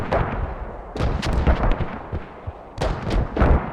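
Mortar and artillery impacts in the tactical shooter Squad, striking a district area: repeated heavy booming blasts at about one, one and a half, and three seconds, with rumbling between them and no talk.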